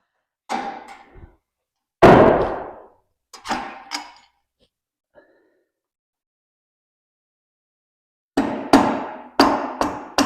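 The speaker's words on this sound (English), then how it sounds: "I'm going to get a hammer just to tap them out" Sharp metallic hammer taps in short bursts on parts of a 1940s Pontiac Silverstreak, a few blows, a pause of near silence, then a quick run of four or five close, ringing strikes.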